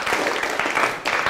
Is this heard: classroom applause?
yes